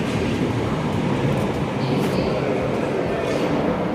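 A London Underground tube train near Green Park gives a dense, steady roar and rumble, loud and continuous, with a faint thin whine rising briefly in the middle.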